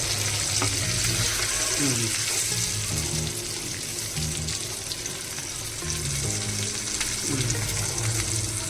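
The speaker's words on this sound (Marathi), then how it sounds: "एक साईडने परतून घ्यायचा. थोडासा परतायचा." Stuffed bangda mackerel fries in a pan Malvani style, giving a continuous loud sizzle with crackle and occasional scraping stirs as the fish is turned.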